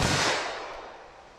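A single 9mm+P pistol shot fired at a target 25 yards away on a range cracks loudly at the start, then its sharp report fades away.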